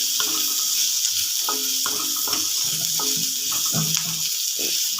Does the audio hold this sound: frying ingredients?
yes